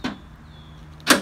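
Electronic deadbolts on a Ford Transit cargo van lock by remote, the bolts shooting out with a sharp clunk at the start and a second loud clunk near the end over a low steady hum.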